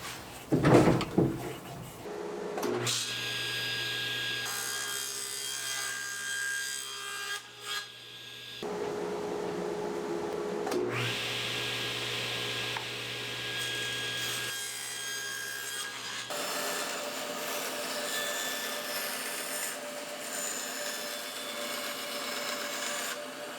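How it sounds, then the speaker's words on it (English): Rough cutting and pattern routing of scrap plywood, with bursts of a power tool chewing through wood in a shop, separated by short pauses and an initial clatter of handling; fairly close and steady, with no talk. "So what we do is outline it, rough cut it, and then pattern route it together"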